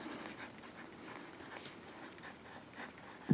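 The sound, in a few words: writing notes on paper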